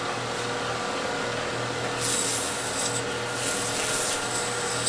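Wood shavings are rubbed against a wooden chess piece to polish it, giving a continuous scratchy rasping sound close to the mic with a few brighter, harder scrubbing bursts midway.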